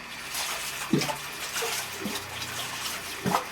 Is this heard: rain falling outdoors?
no